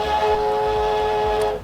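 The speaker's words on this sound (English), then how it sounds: "there's separate steam for the driving power and then steam for whistling." A steam locomotive whistle blows one long, loud, steady blast in Stormworks, on an oil-burner train, then cuts off.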